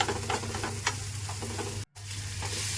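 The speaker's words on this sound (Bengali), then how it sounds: "আলাদা করে ফেলে হালকা আঁচে কিন্তু ডিমটাকে ভুজিয়া মতো করে নেব" Egg scrambled and fried over low heat in a pan, a continuous close sizzle with quick scraping stirs of a spatula, interrupted once by a short moment of silence.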